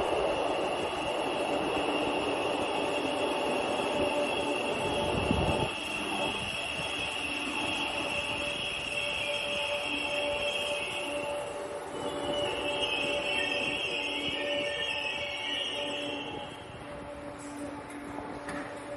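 A Liverpool metro train runs steadily close by, a broad continuous rumble with a high whine and faint wheel squeal riding on top for most of the stretch, easing slightly near the end.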